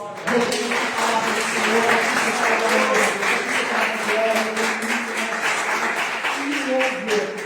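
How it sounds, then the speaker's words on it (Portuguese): Congregation at a church worship service gives a strong, sustained round of applause that fills the room for several seconds, with voices and sustained singing or cheering tones mixed in beneath the clapping. "você pode dar uma forte salva de palmas"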